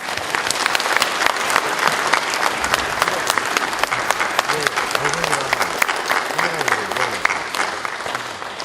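Dense, sustained applause from a large crowd at a Korean Democratic Party joint campaign rally in Daejeon, steady and loud throughout, with voices and a few shouts mixed in beneath the clapping.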